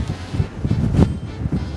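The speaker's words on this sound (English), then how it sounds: "Incredibly windy." Strong wind roaring across the open front deck of the Royal Caribbean cruise ship Odyssey of the Seas, loud gusty buffeting against the microphone with no voices.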